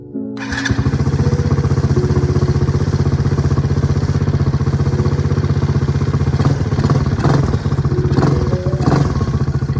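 A cheap second-hand quad bike with a freshly cleaned carburetor runs steadily after a cold start, its small engine putting out a loud, continuous buzzing drone with rattly clatter, close by and without voices.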